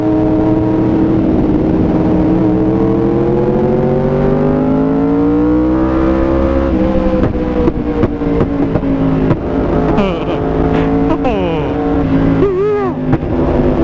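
A Yamaha R1M motorcycle engine revs hard and loud, the pitch rising and falling through repeated throttle blips, with a raspy, crackling exhaust throughout.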